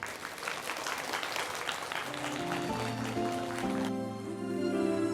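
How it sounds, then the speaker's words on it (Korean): Audience applause at a Korean student talk event, steady clapping from a hall that continues as sustained musical tones and chords rise beneath it. "우리 영암 동아보건대학교 만학도의 꿈 김종현님 박수 한번 크게 한번 보내주시고"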